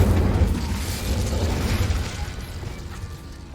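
Incendio fire spell cast in the video game Hogwarts Legacy, a loud, dense burst of low rumbling fire and crackling mechanical texture that swells at once and then tapers off over a few seconds, heard alone with no talk.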